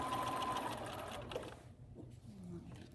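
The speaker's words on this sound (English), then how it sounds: "Back to the sewing machine." A sewing machine sews across a small fabric gusset with a close, steady hum for about a second and a half, then slows and fades into softer handling noises.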